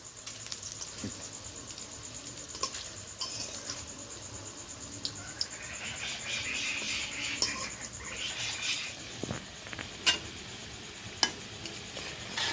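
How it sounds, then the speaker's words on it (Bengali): Fish pieces frying in oil, a soft, steady sizzle with faint stirring and occasional light pops, fairly quiet and without speech. "এইভাবে ছয় থেকে সাত মিনিট সময় নিয়ে মাছগুলোকে লালচে কালার করে ভেজে নেবো"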